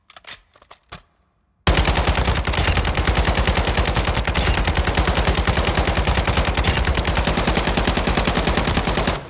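RPK machine gun firing 7.62x39 incendiary rounds in Modern Warfare II, a few scattered shots and then a long unbroken loud automatic burst lasting about eight seconds before cutting off.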